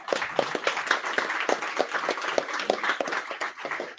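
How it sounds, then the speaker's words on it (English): An audience at a Python developer meetup in Munich claps for a speaker, a lively patter of individual hand claps spread across the room, continuous and fairly close. "So please, applause for Wemolo."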